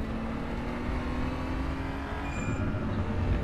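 A BMW M235i Racing car engine drones steadily in the RaceRoom racing game, a constant close-up motor tone holding under the race.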